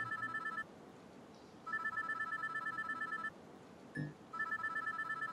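Ringing payphone inside a street phone booth: repeated long electronic trilling bursts with regular gaps, a brief knock or clunk between rings, steady and moderately loud over low background hum.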